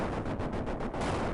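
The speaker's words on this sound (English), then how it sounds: "explosion noise kind of goes off" A short burst of dense, crackling blasts in quick succession, loud and booming, with no voices, from an explosion in the video game Old School RuneScape's Tombs of Amascut raid.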